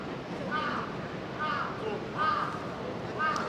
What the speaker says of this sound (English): crows are all fighting up in those trees up there.